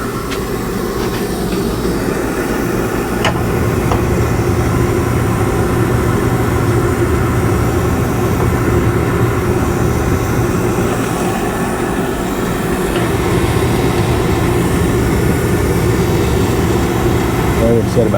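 A Peerless oil burner furnace runs steadily after a repaired combustion chamber, a loud, constant low rumbling roar that continues unbroken from start to finish, with a person talking over it.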